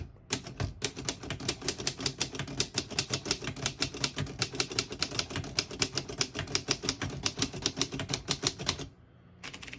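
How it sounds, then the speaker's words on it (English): A 1930 Royal Companion manual portable typewriter clacks in a steady, rapid stream of keystrokes for several seconds, close and crisp, ending abruptly. "I'll type a sentence in red on the next line and switch from black to red."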